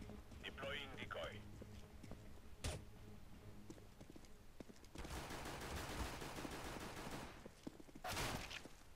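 Fake gunfire from a decoy grenade in Counter-Strike CSGO crackles in rapid, sharp bursts, a single loud shot and then a dense stretch of shots at mid distance within game sound, with a voice briefly heard.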